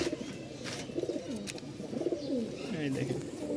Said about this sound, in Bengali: খুব ছটপটা কবুতর